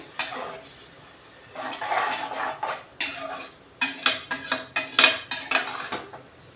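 Rice and water for vegetable biryani are stirred in a metal cooking pot, with a spoon scraping and clanking in close, uneven strokes that turn into a quick run of sharp knocks.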